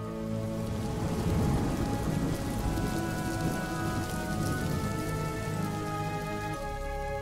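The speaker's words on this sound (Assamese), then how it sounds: "সেই বিজুলীৰ লগে লগেই লাহে লাহে নামি আহিল এজাক বৰষুণ।" Steady rain pouring onto surfaces during a thunderstorm at night, a dense continuous hiss with a low rumble underneath, even in loudness and heard alone without voices.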